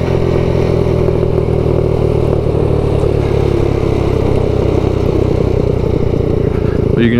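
A 2021 Maddog Generation V 150cc matte black scooter idles at close range, its engine giving a steady, loud, buzzy drone at about 2,000 rpm throughout, with a brief blip near the end.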